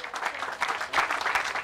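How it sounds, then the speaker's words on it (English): A short burst of applause rises from the audience at a bowling prize ceremony, moderately quiet and brief, with several pulses of clapping. "Big round of applause for Paul."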